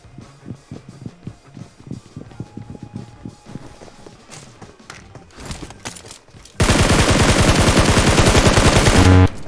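Gunfire in PUBG Mobile comes as scattered, close single shots and footstep-like thumps, then breaks into a loud, sustained automatic burst that keeps hammering rapidly for several seconds.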